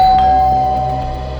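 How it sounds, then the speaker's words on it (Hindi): A doorbell rings once with a clear sustained tone that slowly fades, loud and alone with no talking, in a CID crime drama scene. "दरवाजे की घंटी ने बचा लिया बच्चू।"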